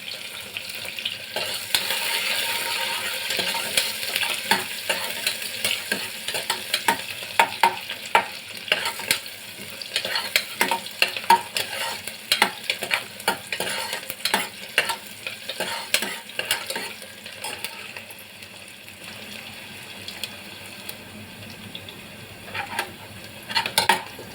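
Finely chopped onion sizzles in a pan with bloomed cumin for dal tadka, a steady crackling fry broken by frequent scraping stir strokes, close and fairly loud with no talking.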